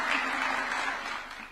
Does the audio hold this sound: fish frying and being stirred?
no